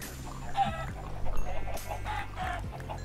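Chickens cluck in the video game Minecraft, modded with Tekkit Reloaded, giving several short clucking bursts over a low game background, moderately close and without talk.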